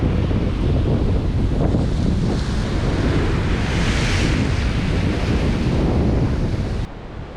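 Strong, steady storm wind roaring into the microphone over crashing sea surf, loud and constant throughout with no voices, dropping slightly at the very end.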